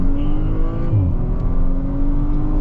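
A stock Audi RS5 accelerates at full throttle on an open road. Its engine roars loudly and continuously close by, with the pitch climbing steadily through the pull.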